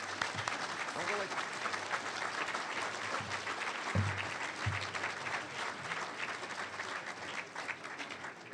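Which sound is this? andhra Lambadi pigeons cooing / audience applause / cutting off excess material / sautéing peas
audience applause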